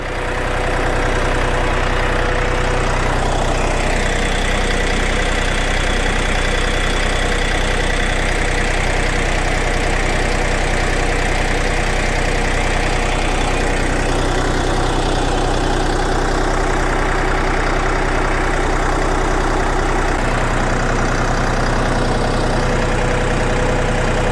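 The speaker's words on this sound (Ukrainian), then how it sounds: "Зараз трактор трішки поробить, прогріється" A KM385BT engine on a DMTZ 255X mini tractor idles steadily while warming up, a continuous low diesel rumble with a knocking, vibrating texture. It runs loud and close for the whole stretch with no talking.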